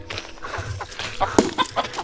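Chickens, a rooster and two hens, clucking in short, irregular bursts close by on a farm in the Philippines, with a few sharper squawks near the end against a low background hum.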